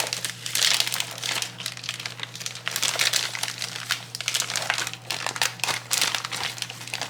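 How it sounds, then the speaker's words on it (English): A bag being ripped open and handled while making sugar cookies, giving continuous close, loud crinkling and rustling of plastic with short tearing bursts, with no speech. "Just rip the bag, make it easier to take it out."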